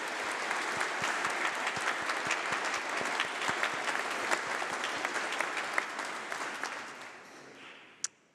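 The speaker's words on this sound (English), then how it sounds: "let's give a round of applause to all of those who are here to support you" Sustained audience applause in a hall at a university graduation ceremony, many hands clapping steadily and loudly for several seconds before fading out at the end.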